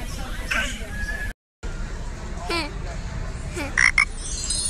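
Frog croaking in a family radio comedy, a few separate croaks spaced across the stretch, fairly faint, with a brief silent gap early on and light background murmur.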